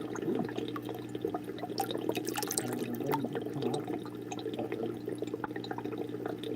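Water with brine shrimp being poured into a stingray tank, a soft continuous trickle and splash with scattered drips, quiet and close, without talk.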